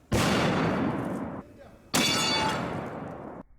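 A hand-loaded .50 caliber rifle fires a test shot outdoors: two loud, booming blasts about two seconds apart, each with a sharp onset and a long rumbling decay.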